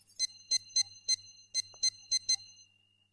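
An office telephone rings on unanswered, a clean electronic pattern of eight short evenly spaced beeps in pairs that then falls quiet, with no voices.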